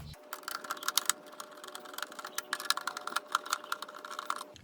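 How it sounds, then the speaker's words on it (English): Screws are backed out of the cover on a Prowler 930 robotic pool cleaner with a number 2 Phillips screwdriver, making rapid, irregular close-up clicking and ticking, faint and with no talk. "you can unscrew these with a number 2 Phillips head screwdriver"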